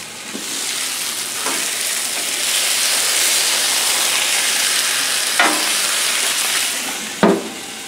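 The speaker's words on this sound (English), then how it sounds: "That's cooking the asparagus right at this moment." Asparagus sizzles steadily on a Yukon Glory griddle under a cheese melter dome, a close, continuous hiss with a few light scrapes or taps against the metal.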